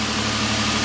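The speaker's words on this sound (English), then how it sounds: "So far the car runs okay, the engine runs fine" A Nissan Murano engine with a low power complaint idles close by, a steady low droning hum with even rhythmic pulsing throughout the short stretch, with no voices.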